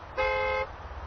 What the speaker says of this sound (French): Oh, il se fait klaxonner.